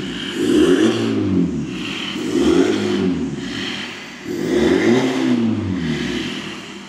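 A Volkswagen Polo 1.6 TDI with a straight-pipe exhaust and DPF delete revs in three loud, rising and falling bursts, close up and throaty, with no talk over it.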